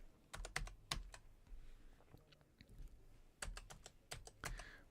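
Typing on a computer keyboard, a quick burst of soft clicky keystrokes, a pause, then another short run of taps, heard close and faint in a quiet room.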